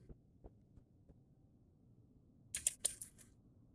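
Computer keyboard typing during a typing video game, a few soft scattered key taps, then a short quick burst of sharper clicks near the end, close but quiet over a low hum.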